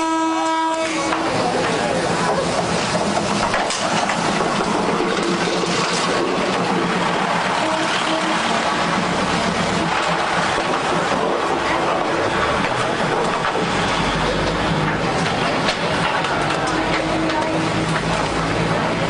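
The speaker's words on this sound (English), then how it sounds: "there's a train line that runs right through the middle of your favorite alley" A train rumbles steadily past at close range for a long stretch through a market alley, with a horn blast early on and clattering wheels beneath a busy crowd.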